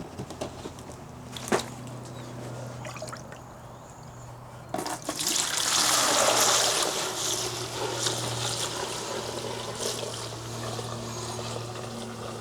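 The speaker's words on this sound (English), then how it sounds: "I'm going to take what's left inside the reservoir tank here. I'm going to dump it into our catch can." Leftover antifreeze from a Lexus GX460 radiator reservoir tank poured into a catch can, a steady splashing trickle that swells into a fuller gushing pour midway, then settles into a continuous flow.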